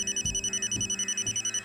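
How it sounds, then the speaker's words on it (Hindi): A repeating electronic ringtone pulses steadily throughout, a close, even ring with low thumps beneath it. "तभी अचानक उसके फोन की घंटी बजती है"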